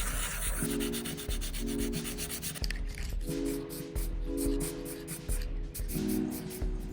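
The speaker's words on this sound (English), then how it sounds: "more sanding." Steady rhythmic sanding of putty filler, a coarse scratchy rubbing repeated in back-and-forth strokes, close up and fairly loud.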